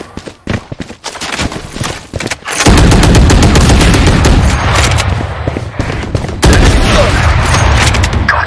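Shotgun blasts in the video game Valorant, loud heavy reports amid dense gunfire and combat effects, with a voice partly heard under the noise.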